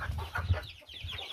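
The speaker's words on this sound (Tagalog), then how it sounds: "Update po tayo ngayon sa mga manok at saka sa sisiw." Chickens and chicks cluck softly in a short, close burst of low, repeated clucks.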